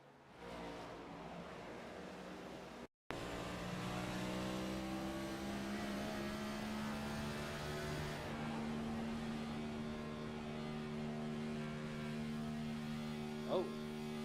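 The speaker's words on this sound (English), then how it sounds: "Hear the engine go all the way up." A race car in the iRacing sim at Phoenix, with a broken part and wheel turned full left, its engine droning in a steady, loud hum that climbs and holds high after a brief dropout.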